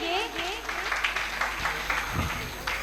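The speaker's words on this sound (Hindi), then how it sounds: "जोरदार तालियां इन बेटियों के लिए" An audience applauding for daughters at a school speech event, scattered claps of moderate strength under a voice speaking over the crowd.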